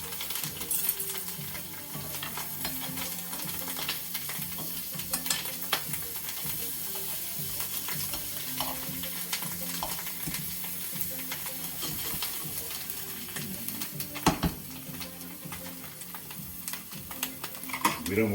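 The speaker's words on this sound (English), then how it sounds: "So that's just simple garlic bread done in a pan." Garlic bread fries in a pan with a low continuous sizzle, broken by scattered scrapes and clicks of utensils moving the bread around, moderately quiet and steady throughout.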